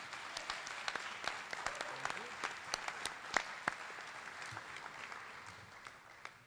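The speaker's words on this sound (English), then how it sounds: "could we give them a quick round of applause" Scattered applause from an audience at a scholarship night, uneven claps that patter along fairly faintly and gradually thin out.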